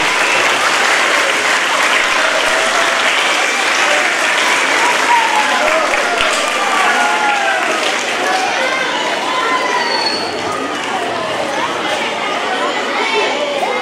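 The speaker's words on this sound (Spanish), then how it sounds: "Un fuerte aplauso para los alumnos de tercero B." A school crowd at a 25 de Mayo event applauds third grade students, loud sustained clapping mixed with children's shouts, cheers and chatter throughout.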